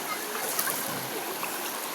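Steady rushing water, broadband and continuous, like a river flowing close by with faint splashes.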